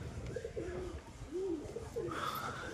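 Pigeons coo in soft, repeated rolling calls at moderate distance, with a faint background hum and no talking.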